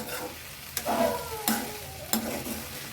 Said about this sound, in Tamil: ஸோ எல்லாத்தையும் சேர்ந்து நல்லா கலந்து விட்டுக்கலாம்.